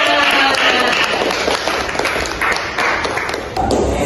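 An audience at an Indonesian student group presentation applauds to welcome a speaker, a dense, loud wash of clapping that carries on throughout with a few sharper claps standing out.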